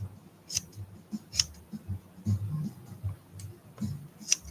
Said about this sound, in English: The good thing about these little shears is because they're for pet groomers